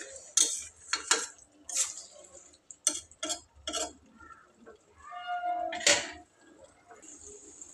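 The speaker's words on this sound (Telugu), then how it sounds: "కూర అయితే బాగా కలుపుకోవాలి కలిసేలాగా" A metal utensil scrapes and clinks against a pan while stirring potato and fenugreek leaf curry, giving a series of sharp, irregular taps and scrapes up close, with quiet gaps and a faint sizzle between strokes.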